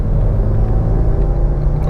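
A car rounding a bend, heard from inside as a loud, steady low engine and road rumble.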